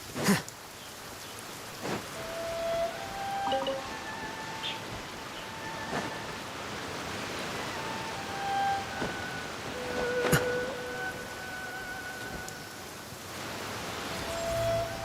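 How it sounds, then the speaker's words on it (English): Steady rain falls in Genshin Impact, a soft, even hiss that fills the scene, with a few faint chime-like game tones ringing over it now and then. "Going out on a rainy day is the worst."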